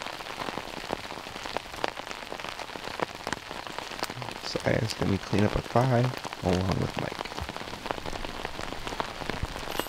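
Steady rain falls on a disc golf course during round three of a New Year's tournament, a constant close patter with commentators talking over it.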